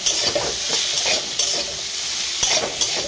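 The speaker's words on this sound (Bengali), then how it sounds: "দিয়ে ওর মধ্যে একদম সামান্য 1 চিমটে মতন একটু হলুদের গুঁড়ো দেবো। হ্যাঁ, একদম অল্প দিয়ে এটাকে ভালো করে নেড়ে চেড়ে নেব।" Elephant apple pickle stirred in a pan with salt and a pinch of turmeric, giving a steady close sizzle broken by repeated scraping strokes of a spoon, with no voices.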